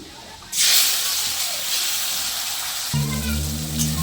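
Grated yardlong beans and tomato hit a hot pan with a sudden loud hiss that settles into steady sizzling, joined near the end by a low droning hum.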